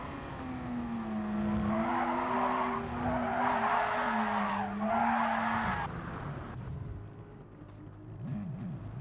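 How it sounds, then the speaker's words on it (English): A street race car fishtails and skids with long, wavering tire squeals over a droning engine, the squeal rising and falling in several bursts before fading into rougher engine and road noise. "A lot of weird fishtailing happened there for you"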